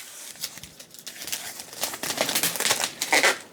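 A strip of eBay packing tape is pulled and ripped off its roll to seal a heavy flap on a book shipping box, a close crinkling, tearing rasp that builds over a few seconds, with no voices.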